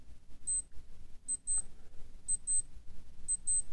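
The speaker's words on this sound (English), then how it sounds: "that's how the alarm sounds" Paired high-pitched electronic beeps from a Casio AW-80 wristwatch alarm, repeating in short double bursts at a regular rhythm over faint background noise.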